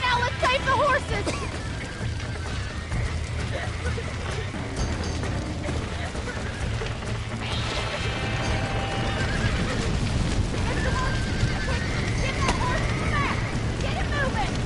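Horses neigh and whinny repeatedly over steady clip-clopping hooves in Red Dead Redemption, loud and close, set against constant game ambience with voices.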